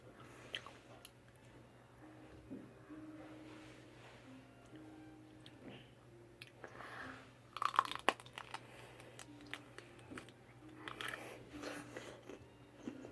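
Crisp bites and crunchy chewing of fresh green chili peppers, close to the microphone and fairly quiet, with a denser burst of crunching midway through and steady low background hum.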